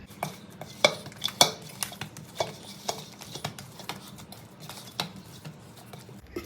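Wheat flour dough being mixed with oil by hand in a bowl for Ugadi bakshalu, with soft irregular clinks and taps of a utensil against the dish at close range.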